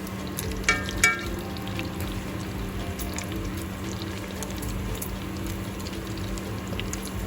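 Bacon frying in a pan, a steady soft crackling sizzle throughout with a couple of faint pops, close and continuous without talk.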